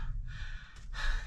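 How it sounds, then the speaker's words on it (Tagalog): A man breathes out heavily, panting and out of breath, with a couple of close, breathy exhales and a sharp intake in a short burst. "Hingal mga idol"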